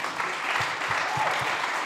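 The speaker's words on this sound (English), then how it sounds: "You can give a round of applause." A crowd applauds steadily at a SXSW panel, a dense wash of clapping filling the room, with a few faint low thumps beneath.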